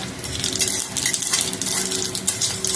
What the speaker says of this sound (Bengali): জিরেটা একটু ফুটে যাক